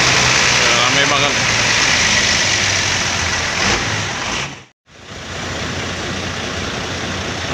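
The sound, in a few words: bus engine 1626 idling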